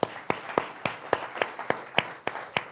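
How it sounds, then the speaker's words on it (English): Scattered hand claps from a small audience at a tribute program for Dr. Freeman Hrabowski, about ten separate claps in an uneven rhythm, moderately near and fairly faint. "Give Jay a round of applause."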